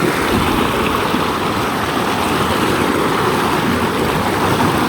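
A rainforest creek rushes over rocks near a waterfall, giving a steady, loud, unbroken wash of flowing water that holds the same level throughout with no voices.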